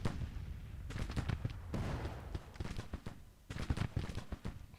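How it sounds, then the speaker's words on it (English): An artillery battery in the Civil War strategy game Grand Tactician fires into a Confederate brigade's flank at Antietam, a busy run of booming and cracking reports in loose clusters, mid-distance and fairly loud. "we've got a nice battery of artillery firing into the flank of this Confederate here"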